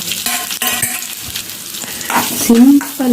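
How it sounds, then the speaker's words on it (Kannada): Curry leaves, garlic, cumin and grated coconut fry in hot oil with a steady close sizzle, stirred now and then with light clinks of a utensil against the pan. "ಈಗ ಈ ಎಣ್ಣೆಯಲ್ಲಿ ಇದು ಇದೆಲ್ಲ ಸ್ವಲ್ಪ ಹುರಿಯಲಿದೆ"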